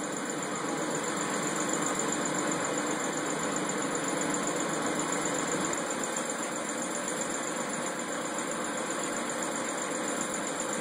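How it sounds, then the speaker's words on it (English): Heavy dump truck and steamroller engines run steadily and continuously, a dense mid-range rumble that holds level throughout with no voices. "Dump trucks and steamrollers, that's what it takes to get things done."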